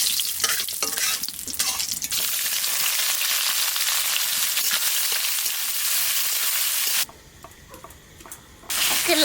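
Meat frying in oil in a pan over a wood-fired clay stove for a winter duck curry, a loud steady sizzle and hiss that drops suddenly near the end, then returns briefly.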